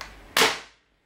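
A single sharp pop of a modified Nerf crossbow blaster with a salvo tank, a short, close burst of air released at once that fades quickly into silence.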